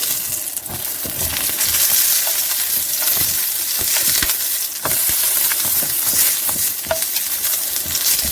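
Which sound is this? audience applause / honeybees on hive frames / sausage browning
sausage browning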